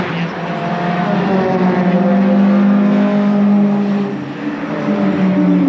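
Race cars lapping the Brands Hatch Indy circuit, their engines a loud, sustained roar that rises and holds near the middle of the clip and then eases slightly as they pass, with no talk over it.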